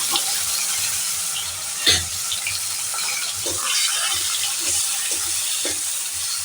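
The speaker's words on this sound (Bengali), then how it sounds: "আমি মাছের মাথাটাকে এবার ছেড়ে দিলাম। এবার লাল লাল করে মাথাগুলোকে ভাজা করে নেব।" Fish heads coated in turmeric fry in oil in a wok, a steady close hiss and crackle with intermittent stirring clatter and one louder splash-like burst early on.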